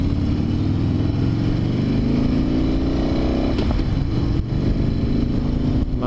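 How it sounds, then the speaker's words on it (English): Harley Davidson motorcycle engine running loud and steady while riding, with a brief mechanical clunk from the transmission as gears shift midway, engine pitch rising and falling. "Nice big clunks from the transmission, but it's not hard to shift."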